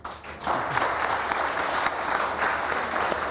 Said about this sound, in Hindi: अगर इनाम चाहिए तो तालियां बजानी पड़ेंगी।